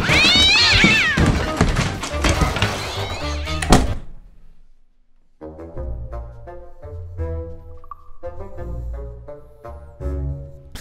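A cat in the video game Tasty Planet Forever meows and yowls loudly for a few seconds, ending with a thunk, followed by light, plinking game music.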